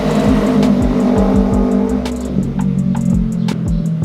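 A Kawasaki Ninja 250 FI motorcycle engine revs loud and close in repeated quick bursts, its pitch sweeping up and down with each blip of the throttle, with no talking.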